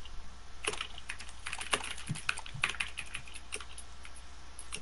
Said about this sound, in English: Or are you just gonna keep spamming your keyboard?